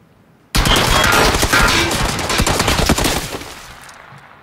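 Sustained burst of automatic gunfire in PUBG aimed at a car, loud rapid shots packed tightly together for about three seconds before tapering off, with no talk over it.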